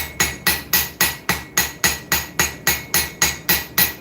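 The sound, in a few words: auto body hammer shaping a knife tang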